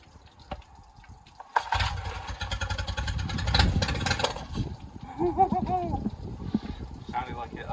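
Yamaha 9.9HP outboard motor after a carb clean, kicking in with a sudden pull and running in a loud uneven putter for a few seconds, then fading under excited talk.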